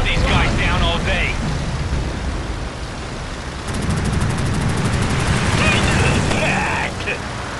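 Aircraft machine-gun fire in a Midway air-combat video game, loud sustained rattling bursts over engine roar and explosion-like rumble, with game voices speaking briefly at the start and near the end.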